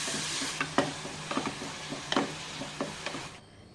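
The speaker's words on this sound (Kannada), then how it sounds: "ಸ್ವಲ್ಪ ಮೀಡಿಯಮ್ ಫ್ಲೇಮಲ್ಲಿ ಇಟ್ಕೊಂಡು ಒಂದು 3 ನಿಮಿಷ ಈರುಳ್ಳಿ ಬಾಡಿಸ್ಬೇಕು" Chopped onion frying in a pan on a medium flame, a steady close sizzle broken by scattered clicks of stirring, before the sizzle cuts off abruptly near the end.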